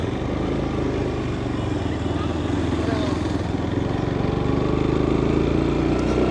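A motorbike ridden along the sandy beach of Saint Martin's island, its engine a steady, close, droning rumble with wind noise, holding an even level throughout.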